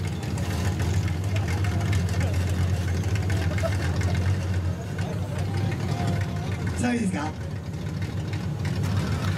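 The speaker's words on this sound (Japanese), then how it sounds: "これがロータリーエンジン" A rotary-engine car idles at a loud exhaust sound contest, its steady low drone running continuously while an announcer talks over it.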